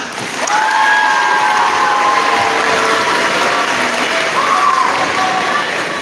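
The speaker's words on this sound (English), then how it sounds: "Let's give him one more big round of applause." A homecoming school assembly crowd gives a big round of applause, loud and continuous clapping throughout, with scattered cheers and whoops carrying over the steady roar.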